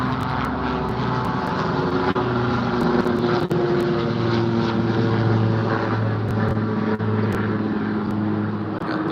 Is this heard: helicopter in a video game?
yes